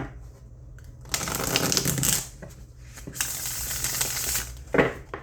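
Tarot cards of sturdy cardstock being riffle-shuffled up close, two crisp bursts of fluttering card flicks separated by a short pause, with a brief tap at the end.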